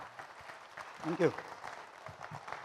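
An audience applauds a community centre leader in Kolkata, a steady spread of clapping underneath a voice speaking over it, with a brief louder swell partway through.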